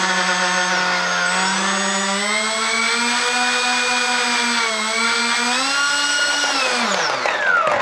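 An RC A-10 Warthog model plane's engine runs steadily at a high whine with a slight pitch rise partway through, then winds down near the end, close and loud with no talk.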